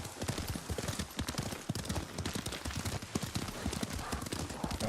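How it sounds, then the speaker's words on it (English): Horse hooves clip-clop at a brisk, steady riding pace in the video game Ghost of Tsushima, the rapid rhythmic hoofbeats running throughout, close and clear. "Lord Sakai taught me to ride a horse."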